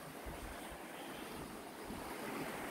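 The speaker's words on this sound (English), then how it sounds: "Enjoy the sound of the creek. You can hear the sound of the creek year round." Continuous rushing water fills the clip, a soft broadband wash like a creek flowing steadily nearby, with no voices.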